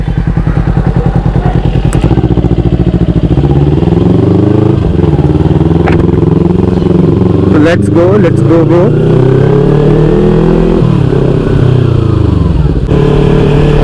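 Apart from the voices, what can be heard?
motorcycle riding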